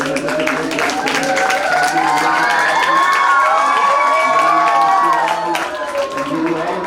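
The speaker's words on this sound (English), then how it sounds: "a big round of applause for the teachers and the team who have done such a great job today" A large crowd cheering and clapping loudly and continuous at a school robotics expo, with shouts and whistles rising above the applause.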